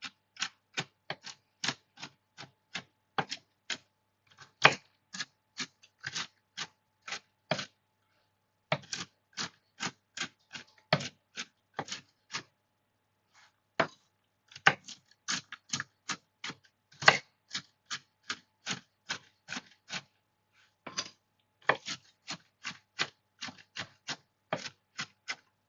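Rapid, crisp knife strokes chopping walnuts on a board, sharp clicky taps in quick bursts with short pauses between runs, close and clear with no voices.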